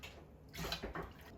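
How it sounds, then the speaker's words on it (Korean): Water pours into a container for napa cabbage water kimchi, a soft, brief splashing gush close by that starts midway and trickles on. "물 3컵을 넣고 2컵만 더 넣을게요"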